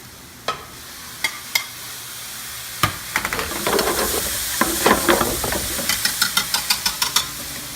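Ground beef sizzles and fries in a pan for chili, with a steady hiss and scattered sharp scraping and stirring knocks from a whisk breaking it up, close by, no talking.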